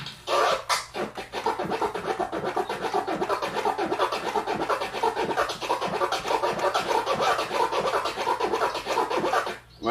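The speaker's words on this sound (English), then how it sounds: "So it's going to sound like a flare that's going twice." Rapid, dense DJ turntable scratching in flare technique, with chirp-flare patterns and two-click flares, running continuously and loud for the whole stretch with no talking.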